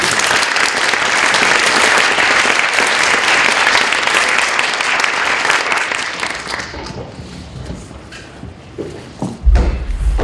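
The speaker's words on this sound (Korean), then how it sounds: "큰 박수로 환영해 주시기 바랍니다" Loud, sustained audience applause in a hall at a Catholic seminary academic symposium welcomes a professor, then fades after about seven seconds, with a few scattered thumps and claps trailing off near the end.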